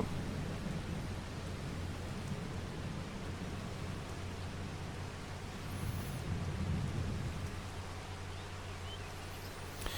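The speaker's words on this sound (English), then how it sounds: "Still raining." Steady rain hisses as a dense, even wash of noise in Farming Simulator 22, continuous and moderately loud for the whole stretch, with a low rumble swelling briefly partway through.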